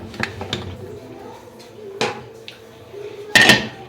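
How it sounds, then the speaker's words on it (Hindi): Metal kitchen clatter up close: a few scattered clinks, then a sharp clank and a louder metallic knock as a pressure cooker lid is set and locked into place over chicken cubes. "कुकर को हम करेंगे बंद"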